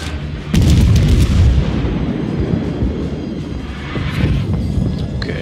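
Heavy naval cannon fire in World of Warships, from an Italian cruiser Duca d'Aosta under attack: a loud boom opens, followed by a dense, continuous rumbling barrage of overlapping gunfire and blasts that stays loud throughout.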